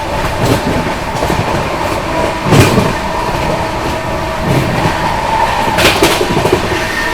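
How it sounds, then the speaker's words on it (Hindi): The Shiv Ganga Superfast Express rushes through Fatehpur station at speed, heard from on board as a loud, continuous rumble with rhythmic clickety-clack of wheels over rail joints and occasional sharp rattles. "अपनी Shiv Ganga superfast express skip करने जा रही है फतेहपुर रेलवे स्टेशन को"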